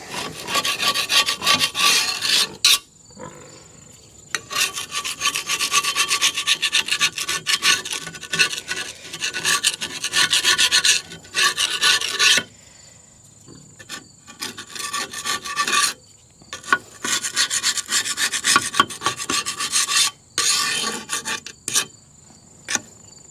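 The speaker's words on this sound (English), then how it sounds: "I broke down and went and got a scraper." A metal scraper rasps across the deck of a 1952 Farmall Cub mower in close, loud bursts of repeated strokes, broken by short pauses, with no talking.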